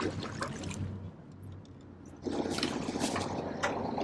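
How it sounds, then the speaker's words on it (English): Cooling water splashes and trickles steadily out of the exhaust of a running engine on a Tayana 58 DS sailboat, with a low engine hum beneath. The flow grows noticeably louder partway through and stays close and continuous. "Let's go see if we got exhaust water."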